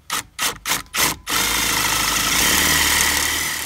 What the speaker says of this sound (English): Run it the wrong way.